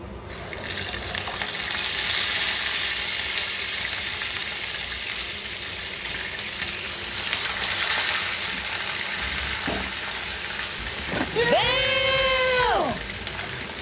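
Sea bream frying in hot oil gives a steady broadband sizzle throughout, with a brief clatter near the end and a short rising squeak from handling in the pan.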